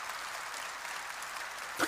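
A congregation at a Korean church claps during a sermon, a soft, even patter of applause throughout, ending with a short louder burst.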